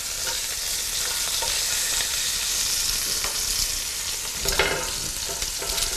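A rack of lamb sears in a hot pan, giving a loud, steady sizzle that runs unbroken throughout, with a brief burst of spatter near the end.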